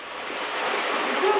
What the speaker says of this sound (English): The waterfall chamber at the base is just marvellous.